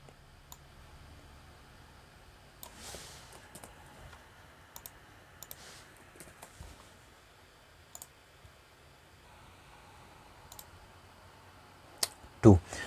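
A computer mouse clicks on a web page during a hands-on access-control exercise: a handful of quiet, scattered single clicks over a steady low hiss, with a burst of sharper clicking near the end.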